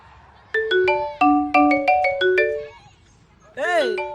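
A phone ringtone plays a bright electronic melody of rising and falling tones, repeating in phrases, then a warbling tone sounds near the end, with some talk nearby.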